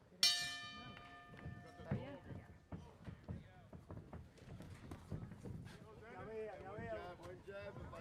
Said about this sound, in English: At the bell, gentlemen.